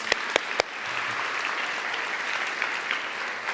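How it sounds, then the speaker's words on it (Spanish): A church breakfast crowd applauds a group of men, a sustained wash of clapping running steadily for several seconds after a few sharp early claps. "Denle un aplauso, por favor, a estos hombres."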